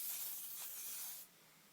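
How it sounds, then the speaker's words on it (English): Hairspray hisses from a nearly empty can onto hair, a short faint airy spray lasting about a second before cutting off to quiet. "Give it a really good spray."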